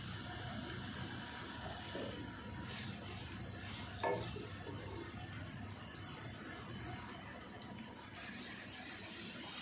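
Sliced onions fry in ghee in a pot with a soft, steady sizzle and faint bubbling, quiet and continuous, with an occasional light clink.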